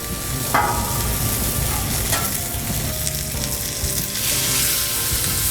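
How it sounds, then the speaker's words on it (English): Rib eye steak fat cap searing on a Blackstone griddle, a steady loud sizzle throughout with a few clinks of a metal utensil against the flat-top, no voices. "give that little fat cap a quick sear for about a minute"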